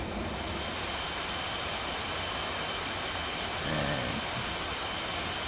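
An F/A-18C Hornet jet in DCS World flight simulation roars with a steady, broadband engine rush and a faint high whine, continuous throughout with a slight swell near the end.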